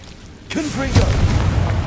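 A Confringo blasting spell goes off in the Hogwarts Legacy video game, a sudden loud boom bursting in after a quiet lead-in and rolling on with crackling, swirling magical effects and a low rumble.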